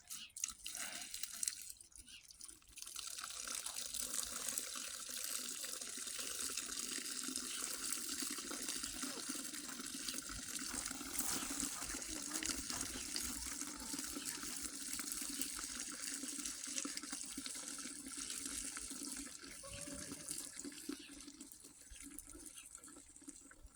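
Hot water runs steadily into the diesel particulate filter from a 2011 Citroen C4 during cleaning, a long continuous hiss and splash with faint dripping. It is quiet and unbroken for over twenty seconds.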